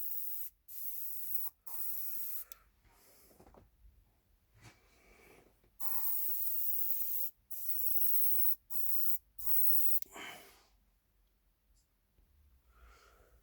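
An airbrush running at about 20 psi sprays in a series of short and longer bursts of bright hiss, separated by near silence, with one brief breathy burst partway through.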